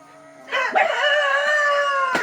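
A chicken being wrapped up and secured before a typhoon lets out a single loud, drawn-out harmonic call, close by, rising sharply then holding steady for over a second before breaking off.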